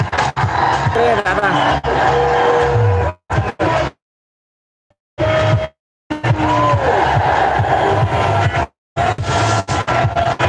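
A large outdoor crowd at a roadside welcome for Manoj Jarange Patil roars with loud cheering and shouting, which cuts out abruptly in several places and returns, with voices calling out over the din.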